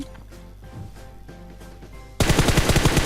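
After a quiet stretch, rapid automatic gunfire suddenly erupts in PUBG Mobile, loud and sustained, a fast stream of sharp shots.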